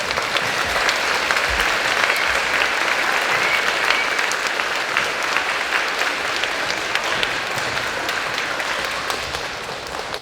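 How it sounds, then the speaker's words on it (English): A school audience at a Veterans Day program applauds the 4th grade, with dense, steady clapping from many people that fills the room and fades slightly at the end. "Please give one more round of applause to both our 4th grade."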